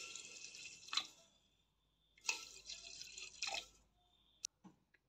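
Mango milk trickles in small, separate pours into a bowl while making steamed bhapa doi, a few faint splashing bursts separated by quiet gaps.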